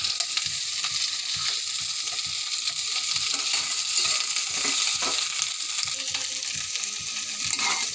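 Vegetables frying in a pan over lowered gas, a continuous bright sizzle with soft scraping stirs scattered throughout.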